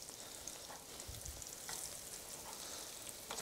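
Eggplant slices for an eggplant parm pizza fry quietly in a pan after being flipped, a soft, even sizzle with faint crackles and no talk.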